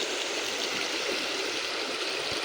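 Two rivers meet near the Cangar bridge, and the flowing water makes a loud, steady rushing roar throughout, close by and unbroken, with no voices over it.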